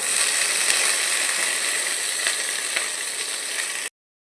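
Black cumin seeds and spring onion greens sizzling in a hot frying pan, a dense, bright, steady hiss with light crackles, close and alone, stopping abruptly near the end.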